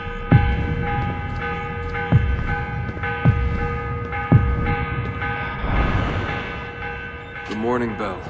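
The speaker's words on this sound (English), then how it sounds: "The morning bell." A morning bell in the video game Assassin's Creed Revelations tolls loudly about four times at a slow, even pace, each strike leaving a long, humming ring, and a brief vocal sound follows at the end.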